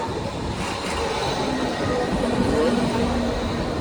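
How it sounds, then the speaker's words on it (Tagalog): A passenger train in Europe rumbling steadily from inside or close by, with faint squealing wheel tones and people talking over it. "ang ah, train dito sa Europe"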